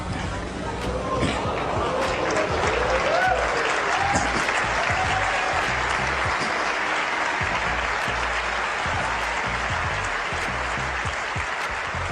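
Sustained applause from a large audience greets the reveal of the Apple iMac G4, a dense, even wash of clapping with murmured voices mixed in, holding steady for several seconds.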